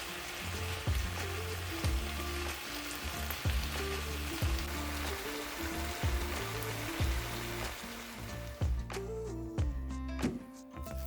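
Vegetables simmering in a pan give a continuous bubbling sizzle, steady and close, with a few light clinks of utensils toward the end.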